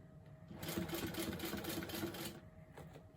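An industrial sewing machine top stitches the edge of a fabric bag, giving a steady, fast mechanical whirring run that starts after a short pause and continues for about two seconds before slowing off.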